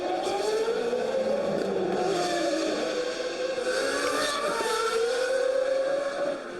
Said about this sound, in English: Distinct engine note, the 8-into-1 exhaust used on these cars really gives them a different sound